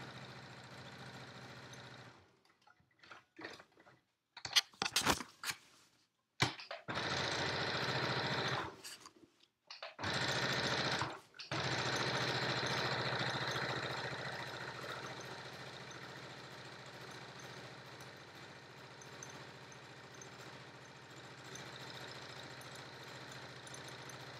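A sewing machine stitching a Yup'ik qaspeq, first in short stop-start bursts with pauses between, then settling into a long continuous whirring run close to the listener, with no talking.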